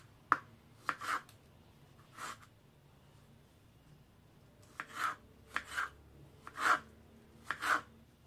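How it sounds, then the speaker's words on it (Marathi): A knife chops half a tomato finely on a board, giving sharp, close taps singly and in quick pairs, with a pause midway before the chopping resumes in a faster run of strokes; no talk. "आता आपला जो हा हाफ टोमॅटो आहे तो आपल्याला बारीक कट करून घ्यायचा आहे।"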